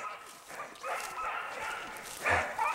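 A pack of beagle hounds barks and bays in a scattered, overlapping chorus as they chase a hare down a road, fairly distant, with people talking faintly.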